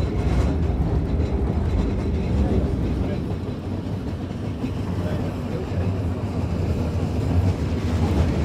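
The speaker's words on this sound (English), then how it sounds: "But in the steam train, where you are able to open the windows," A Swiss mountain railway steam train runs along steadily with a continuous rumble and rhythmic clatter of the carriages, heard from on board near open windows.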